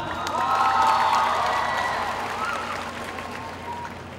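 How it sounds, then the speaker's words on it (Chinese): A hall full of people at a university graduation ceremony clapping and cheering, a sustained wash of applause with whoops that slowly thins out and fades. "我们掌声欢迎刘博伟会长。"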